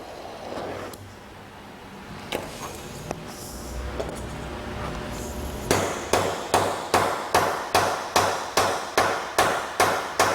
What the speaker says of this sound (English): with a heading tool that I have here, I can peen that over and form another round head to match this one